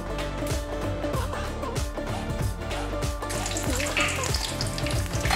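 Whole spices (cardamom, cloves, cinnamon, mace, peppercorns and dried chillies) sizzle and crackle steadily in hot oil, with close, busy popping throughout.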